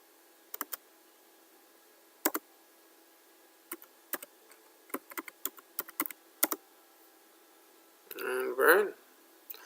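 Computer keyboard keys clicked in short, uneven bursts while a password is typed at a CentOS 6 64-bit install prompt, the taps close and fairly quiet, with a brief louder rustle near the end.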